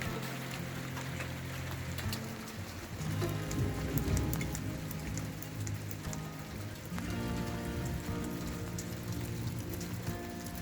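Steady rain pattering on a surface during a thunderstorm, soft and continuous, with a faint low hum beneath and no voices.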